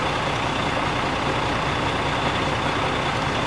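A heavy duty truck diesel engine idles at about 600 RPM, a dense, steady, loud rumble with no change in pitch or level and no talking.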